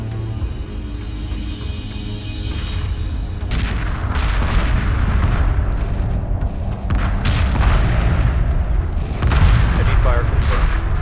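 Heavy weapons fire in the Homeworld 2 space strategy game, dense booming blasts and rapid gunfire rolling continuously and loudly, with radio-style voice callouts over the battle.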